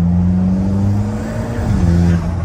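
An Alfa Romeo car engine accelerates up close, a loud steady rising drone that shifts pitch partway through as it pulls, with no talking over it.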